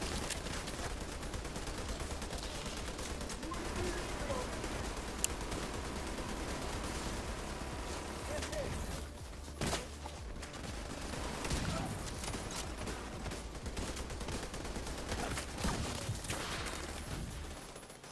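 Continuous gunfire fills a firefight in The Division 2, steady overlapping shots and bursts at moderate volume with a brief lull midway, mixed with game ambience and faint voices.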